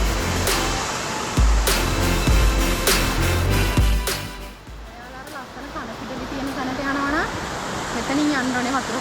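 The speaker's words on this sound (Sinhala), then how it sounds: "මෙතන බලුවාම උඩින් ලස්සන බොමුරු ඇල්ල දියැල්ල පේනවා" Bomburu Ella waterfall in Sri Lanka roars as a broad, constant rush of falling water, loud and close, with voices talking over it.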